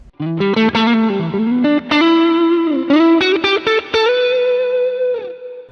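An electric guitar plays through a tube-modded Ibanez TS808 overdrive from Peace Hill FX, giving a loud, saturated lead phrase of sustained, bending notes and quick picked runs, close and alone before a final held note fades.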